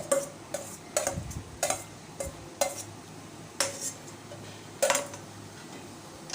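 A spoon stirring grated coconut into milk in a cooking pot, producing a series of distinct metallic clinks and scrapes against the pot at irregular intervals, close and clear with no voices.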